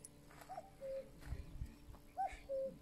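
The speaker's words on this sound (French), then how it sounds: "Écoutez le coucou." A common cuckoo calls from trees outdoors, giving two clear two-note coos a moment apart, moderately distant and soft against quiet background noise.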